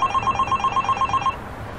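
A mobile phone rings in a domestic scene, a steady repeating electronic ring pattern close and clear for most of the moment before it stops, with no voices over it.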